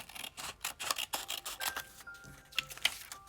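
Scissors snip along a drawn line through paper, a run of short crisp cuts with small rustles in between, close by and fairly quiet.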